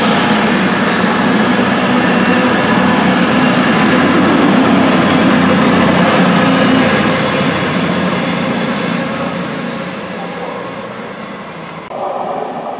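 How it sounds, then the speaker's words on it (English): A Virgin Voyager train from Chester or Holyhead bound for London Euston roars past at close range, a loud, steady rumble and rush of wheels that fades slightly toward the end. "Here comes a Virgin Voyager from Chester or Holyhead running to London Euston"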